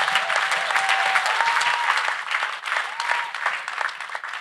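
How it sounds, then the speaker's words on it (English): A church congregation applauds in a dense, steady wash of clapping that carries on throughout, with voices and a few cheers mixed in. "Church, can we clap for Master Jesus once again?"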